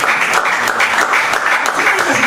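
A church congregation claps together in a steady, fairly loud burst of applause with no talking over it.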